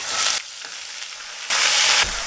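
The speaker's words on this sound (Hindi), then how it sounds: "अब डाल दीजिए पिसे हुए कच्चे प्याज" Ground raw onion hits hot oil already crackling with cinnamon, cloves and green cardamom, giving a loud steady sizzle that eases briefly, then surges again as it is stirred.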